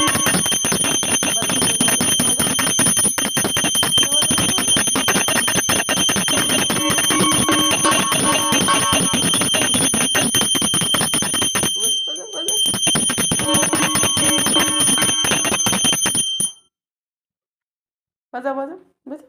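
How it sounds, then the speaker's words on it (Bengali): A small handheld puja bell rings continuously in a rapid, bright jangle for most of the clip, pausing briefly and then stopping, while voices speak nearby. "ঘন্টাটা বাজাও"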